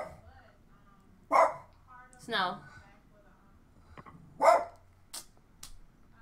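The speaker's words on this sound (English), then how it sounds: "give me a minute because the dogs, I don't know what they heard" Dogs bark indoors in several short, fairly loud bursts spread across a few seconds, with a person talking between them.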